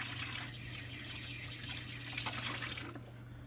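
Water running steadily from a workshop sink tap while a knife is washed with ordinary detergent, a close, even hiss and splash that cuts off near the end, with no talking.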